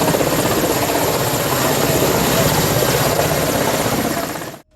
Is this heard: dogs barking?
no